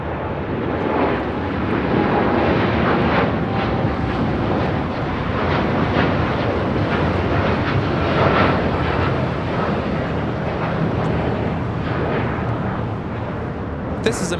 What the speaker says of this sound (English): This is American Airlines Flight 27 taking off to Tokyo Haneda on the 787-8 Dreamliner